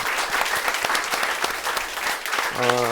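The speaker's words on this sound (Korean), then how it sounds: "여러분들 한번 박수로 반응을 좀 보여주세요" An audience at a talk event at Space Baum applauds in a dense, steady wash of clapping that fills the room, with a voice cutting in near the end.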